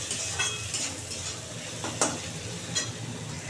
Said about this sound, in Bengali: ভালো করে একটু ভাজা ভাজা করে নিই